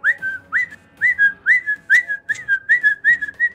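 A person whistles an imitation of a phone notification tone, a quick run of about a dozen short rising chirps in a bouncy rhythm, close and clear with no talking.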